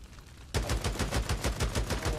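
Heavy weapon fire in the video game Days Gone, a loud rapid burst of automatic shots that starts abruptly and repeats at a fast, even rhythm until the end.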